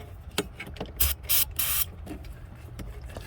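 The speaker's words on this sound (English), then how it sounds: "Now I'm going to spray the head of the toothbrush, or the bristles of the toothbrush rather." Several short hissing bursts of cleaner sprayed onto toothbrush bristles, close by, with brief pauses between them, over a quiet low hum.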